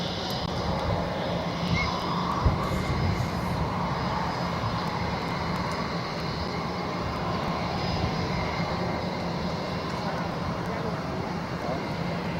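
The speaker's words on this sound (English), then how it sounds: "We will also shortly see KLM departing back to Amsterdam." A KLM airliner departs Barcelona airport, its jet engines a steady, broad roar that holds loud and continuous throughout with no talk over it.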